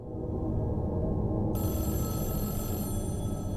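A telephone rings inside a video game, a continuous electronic bell trill that holds steady throughout and turns brighter and more metallic partway through.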